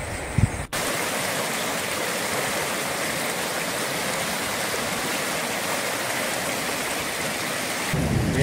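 Very heavy rain pours steadily in the Vemulawada area, a loud, dense, continuous hiss of downpour with no voices and no distinct thunder claps.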